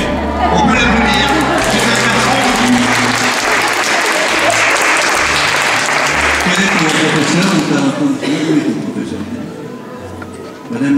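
A crowd at a francophonie competition award ceremony in the Rhône applauds loudly and continuously, a thick wall of clapping with voices and a low musical hum running beneath it.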